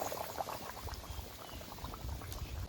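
Catla fish curry with potatoes and pumpkin stems simmering in a pan, a steady close bubbling with soft popping and crackling throughout, moderately quiet, with no talking.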